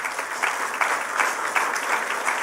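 A church congregation claps steadily through a service, with dense, continuous applause swelling and fading in uneven waves and no voices rising above it.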